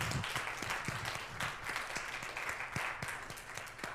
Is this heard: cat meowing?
no